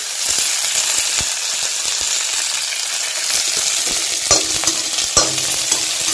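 Chilies fry gently in oil in a pan with a continuous close sizzle, while a utensil stirs them back and forth, giving scattered scraping taps and a couple of sharper knocks.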